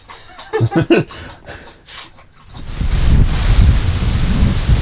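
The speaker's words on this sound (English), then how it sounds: "It is very blustery out today." Blustery fall wind at a lakeside campground at Harrison Lake buffets the microphone in a loud, low, gusting roar that rises after a brief voice and chuckle.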